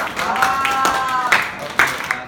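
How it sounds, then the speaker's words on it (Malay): Students in a classroom give a short round of clapping in several quick bursts, with a voice talking over it. "Okey, bagi tepukan."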